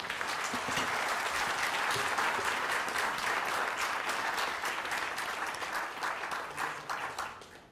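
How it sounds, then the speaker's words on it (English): An audience at an India–U.S. partnership event gives its speakers a full round of applause, dense and steady for several seconds before tapering off at the end. "let's give a round of applause for our speakers"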